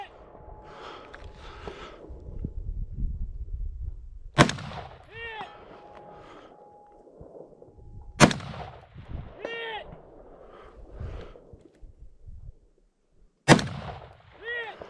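Rifle firing M193 55-grain rounds at steel targets in the high desert mountains of West Texas, three sharp loud shots spaced several seconds apart with ringing echoes, separated by quieter movement and background noise.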